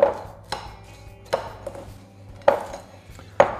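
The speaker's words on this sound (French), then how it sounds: "Enfin, j'ajoute les amandes effilées. Je mélange à la spatule." A spatula folds sliced almonds into a chocolate cake batter of cocoa and flour in a bowl, giving a few sharp taps and clinks against the bowl between soft scraping, close and clear.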